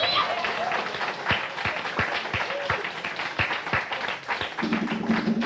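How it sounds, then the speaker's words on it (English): Applause from a church congregation during a Sunday service, a steady wash of clapping filling the room, with some voices mixed in near the end. "Can we give Stephen Wise another round of applause?"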